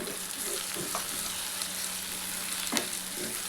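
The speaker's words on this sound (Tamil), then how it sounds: "இப்போ தக்காளி நல்லா வதங்கட்டும்" Chopped tomatoes sauté in hot oil in a pan for a Tamil potato kuzhambu, giving a steady, close crackling sizzle with a few faint stirring clinks.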